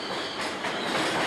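A train rumbles past with a steady, broad rushing rattle and faint rhythmic clatter of wheels on rails, loud and continuous for the short stretch.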